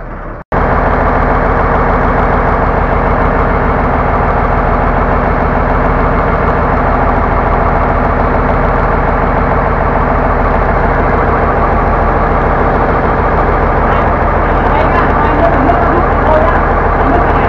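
A boat's engine turns over after a brief pause and settles into a loud, steady idle on a test run at a dry dock, a continuous dense rumble lasting throughout.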